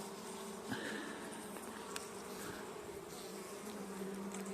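Honeybees swarm noisily around an opened hive, their dense, continuous buzzing holding steady and close throughout, with no voices.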